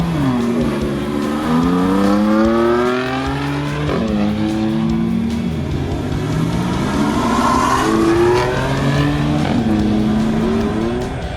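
A BMW M4 Coupe driving and accelerating, its engine rising through gears in repeated climbing pulls with short drops at each shift, loud and close, steady throughout with no talking.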